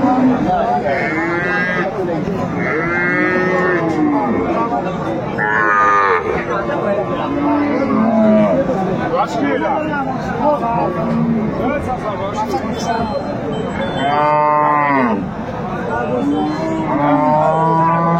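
Cattle at a busy livestock market, including a Sahiwal bull calf, with repeated loud mooing from several animals near and far over constant crowd chatter and bargaining voices.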